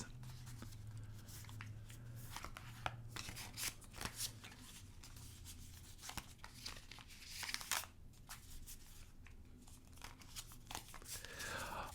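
Tarot cards being shuffled by hand, a steady run of soft papery riffles and crinkly rustles lasting throughout, fairly close and quiet, with no talking over it.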